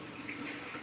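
Tap water runs steadily into a bucket, a soft, even hiss heard faintly and briefly with no talk.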